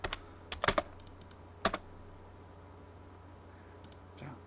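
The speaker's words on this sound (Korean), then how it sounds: "R로 입력하고 엔터 클릭" Keys clatter on a computer keyboard as AutoCAD commands are entered, coming in a few short bursts of close clicks followed by a quiet pause and one more brief tap near the end.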